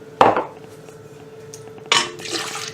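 Milk poured into a bowl for hamburger bun dough: a sudden splash and gush at the start, a quiet pause, then a second louder pour that trails into trickling liquid.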